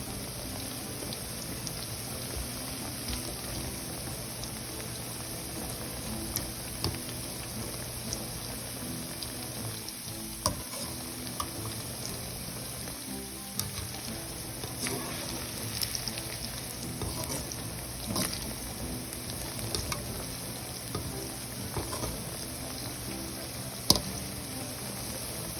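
Raw banana (vazhakkai) pieces deep-frying in plenty of hot oil, a steady dense crackling sizzle that runs on without pause, with occasional sharper pops, loud and close with no voices.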